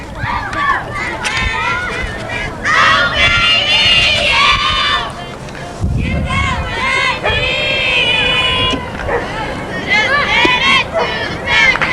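A Plattsburgh State softball squad shouts rhythmic cheers and chants from the dugout between pitches. The group voices are loud and close, rising in bursts over general crowd noise.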